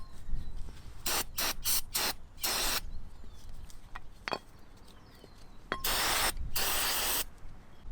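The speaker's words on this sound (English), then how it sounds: "Don't forget to clean your new rotors with brake cleaner" Brake cleaner sprayed from an aerosol can onto new rear brake rotors of a Range Rover L405, a series of short hissing bursts followed by two longer sustained sprays, close and loud over faint background noise.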